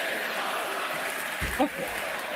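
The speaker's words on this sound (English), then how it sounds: "That's the crowd." Wrestling arena crowd at a live event roaring in a steady broadband wash, with a brief louder surge partway through and a voice briefly audible over it.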